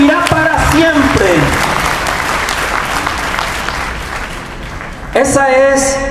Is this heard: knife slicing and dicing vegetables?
no